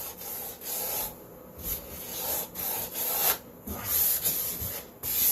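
Wood being sanded by hand gives rhythmic back-and-forth rasping strokes, close and moderately loud, repeating steadily with no talking.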